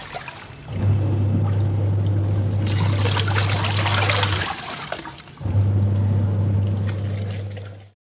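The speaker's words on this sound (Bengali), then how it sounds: "বেসিনের সাথে পাইপ দিয়ে এখানে জলটা ভরা হয়" Water runs through a pipe from a bathroom basin into a washing machine, a steady trickling and gushing flow that stops briefly midway and then resumes, close and alone with no talk.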